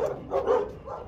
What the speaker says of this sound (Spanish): ¡Ay, tres perros!